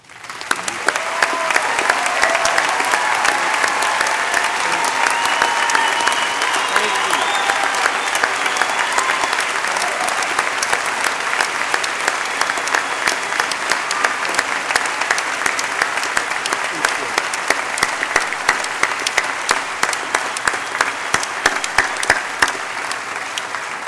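A large commencement audience at Northwest's 2013 spring afternoon ceremony applauds graduating veterans, with dense, steady clapping that holds at full strength for the whole stretch.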